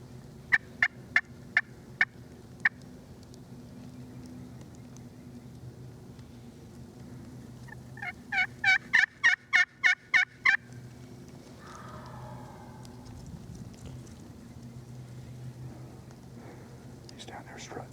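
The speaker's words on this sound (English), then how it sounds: "That turkey's down here." A wild turkey gobbles at a distance in Tennessee woods during a spring hunt, rapid rattling bursts in two clear volleys, with quiet whispered talk between calls.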